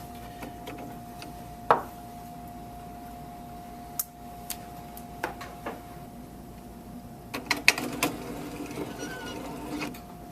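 A National Optronics lens tracer traces a metal eyeglass frame for a beveled lens, giving a steady quiet mechanical whine broken by scattered light clicks and ticks.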